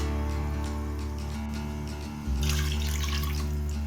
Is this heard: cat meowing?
no